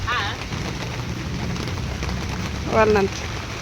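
Rain falls steadily outdoors as a continuous hiss of drops, while people talk over it.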